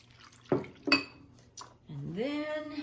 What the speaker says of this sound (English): we're going to whisk that in